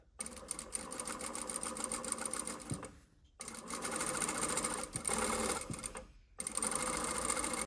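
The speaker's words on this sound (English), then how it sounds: "And I just sew along the folded edge." A sewing machine top-stitches along the folded edge of a flat felled jeans seam, running in three bursts of fast, close needle clatter separated by brief pauses, with no talk.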